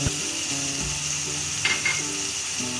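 Boneless beef karahi frying in a pan as salt and spices are stirred in, giving a steady close sizzle with a few louder scraping stir strokes partway through, no voices.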